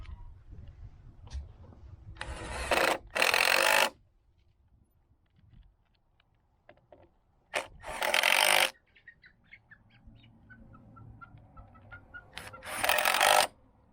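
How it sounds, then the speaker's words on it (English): A 3/8 driver driving bolts into the leg of an assembled Adirondack chair, giving three loud whirring bursts a few seconds apart, with quieter handling noises and faint clicks between them. "So I've got a 3/8 driver right here. And we're going to go ahead and put these first 3 in."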